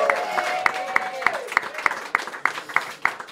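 Rhythmic clapping sounds from an audience applauding finishers of a 170 km ultra race, evenly spaced sharp claps with a sustained tone underneath for the first half.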